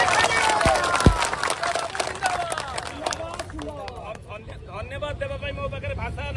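Crowd clapping and cheering at an outsourcing workers' victory rally, a dense burst of applause that fades slightly while babble continues underneath for several seconds.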